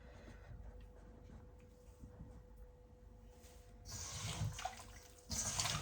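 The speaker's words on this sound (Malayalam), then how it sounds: "അപ്പം ഞാൻ കുറച്ച് വെള്ളം കൂടെ ആഡ് ചെയ്യാൻ പോവാം" Water is poured into a chicken fry marinade mix, a faint trickling splash that grows louder in the last two seconds, close by in a quiet kitchen.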